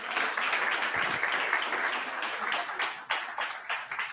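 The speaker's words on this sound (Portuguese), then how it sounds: "Aplaudo mais uma vez a Jesus." Congregation applauding during a church service, a steady wash of many hands clapping for several seconds, fairly distant and moderate in level, with no speech over it.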